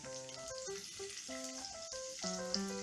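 Chopped garlic sizzles softly in hot refined oil, a quiet, steady frying crackle for Indo-Chinese chilli chicken, heard beneath background music.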